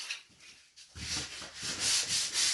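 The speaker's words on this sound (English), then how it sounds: "he's sanding the wood and I'm cleaning it with the 400 sandpaper" Wood being sanded by hand with fine 400-grit sandpaper during a first woodworking build, a steady close rasping rub that starts quietly and grows louder in repeated strokes, with no talking.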